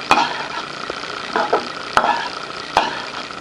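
A utensil stirring coriander into cabbage and peas poriyal in a pan, giving soft scraping and a few sharp clacks against the pan spaced across the clip, close and moderately loud, with no talking.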